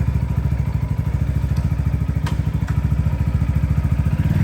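A fuel-injected 2024 Venom X22R Max 250cc street motorcycle pulls away with a close, steady, rapid engine pulse and a faint mechanical clatter throughout.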